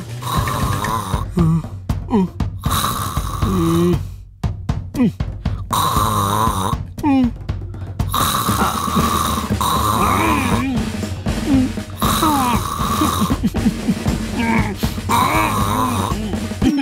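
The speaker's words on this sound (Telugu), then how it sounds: "మీ అమ్మ గురక పెడుతుందా, గూడ్స్ ట్రైన్ నడుపుతుందా?" A woman snores loudly and heavily in long rasping breaths with groaning tones, going on steadily throughout, with occasional voices mixed in.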